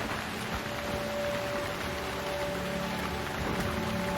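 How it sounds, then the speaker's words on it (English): A steady drizzle of rain falls outdoors on the Appalachian Trail, a constant hiss with soft patter at a fairly even level throughout and no talk. "it's raining now, a constant drizzle"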